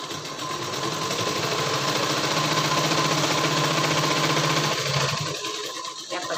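Sewing machine running steadily while stitching a blouse, a close, continuous motor whir with needle chatter that slows and stops near the end.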